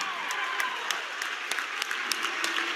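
A boys' basketball crowd in a high school gym cheers and applauds in a sustained, dense roar, with sharp claps and shouts popping out from the steady noise.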